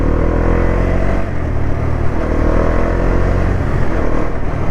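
Motorcycle engine roaring steadily inside a road tunnel, loud and close with a dense, reverberant drone that fills the whole stretch without letup.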